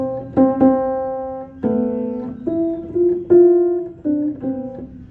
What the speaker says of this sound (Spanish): sino golpea el paño y eso ensordece el piano.